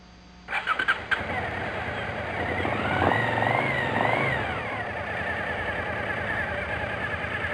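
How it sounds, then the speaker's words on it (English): Suzuki motorcycle engine cranks with a few sharp bursts, then fires and settles into a steady, loud idle with a slight rise in pitch midway, during throttle body tuning. "Now start the engine and let it idle."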